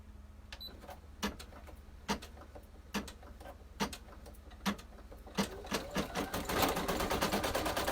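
An embroidery machine stitches a placement line for a zippered key fob tab with a regular series of sharp mechanical clacks under a low motor hum, speeding into a denser rattle near the end.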